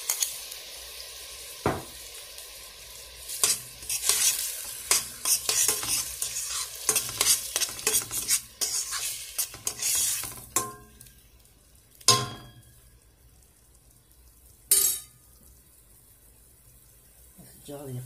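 Eggplant and minced meat balls fry in oil with a soft sizzle. Frequent clinks and scrapes of a utensil against the pan break in, and the sounds are sharp, close and intermittent.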